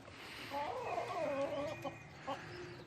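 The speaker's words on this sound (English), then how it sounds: "All the birds are in feeding on the cradle feeders" Chickens clucking around cradle feeders on an allotment while they feed, a steady run of soft, close clucks and murmurs over a low outdoor background.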